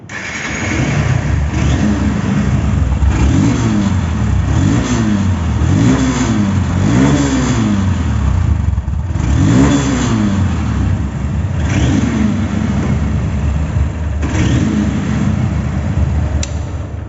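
A second-hand 2024 Honda CB Hornet motorcycle engine revved repeatedly, rising and falling pitch sweeps in a loud, close, continuous run with no speech.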